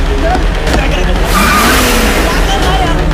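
Car pulling away fast in an action-film chase, engine surging with a tire squeal mid-way, loud and close, under shouting voices.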